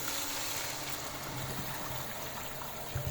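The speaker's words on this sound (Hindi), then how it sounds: "इसकी यखनी बनाने के लिए हम इसमें पानी शामिल कर रहे हैं" Water streams steadily into a pot of chicken to make broth for restaurant-style chicken corn soup, a continuous close gushing pour with no talking.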